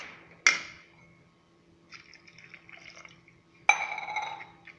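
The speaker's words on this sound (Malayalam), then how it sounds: "ഇനി ഇച്ചിരി ഒന്ന് കുറച്ച് വെള്ളം കൂടെ ഒഴിക്കണം." Water poured in short bursts into a pot of homemade green chilli curry, two splashy pours separated by quieter trickling and bubbling, close and fairly soft.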